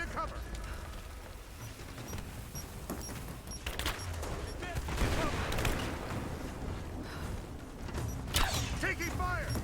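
Gunfire in Rise of the Tomb Raider amid a snowy firefight, rapid bursts and scattered shots rising over steady mechanical and ambient game noise, with a couple of louder volleys near the middle and end.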